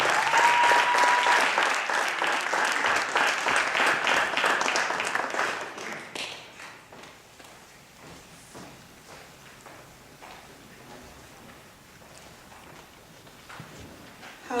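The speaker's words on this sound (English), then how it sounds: "Start clapping, making noise. Show your love." An audience claps for a poet at a live stage event. Dense, loud applause fills the first six seconds, then thins into scattered, fading claps and small noises.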